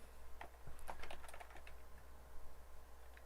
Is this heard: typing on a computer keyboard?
yes